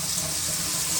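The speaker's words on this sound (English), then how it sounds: "I'm going to turn these water on, you feel me, turn both of them on" A bathroom sink faucet with both handles turned on runs a steady, close, even rush of water for the whole moment, with no talking over it.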